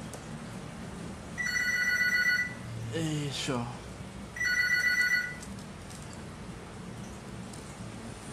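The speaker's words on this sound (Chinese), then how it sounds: "哎呀，又有电话来了，大家忍受一下" A telephone rings in two bursts of bright electronic trilling in an indoor home setting during a board-game unboxing, with a person speaking in between and a low background hum.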